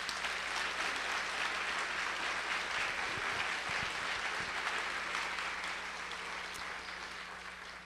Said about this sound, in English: I think we certainly as a community owe them a round of applause of appreciation.